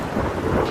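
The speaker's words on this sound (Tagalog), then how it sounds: "Iyan ang tunog ng ulan, marahang bumabagsak sa bubong ng isang maliit na bahay kubo" Soft, steady rain falling on the roof of a small nipa hut, a continuous even hiss with no voices.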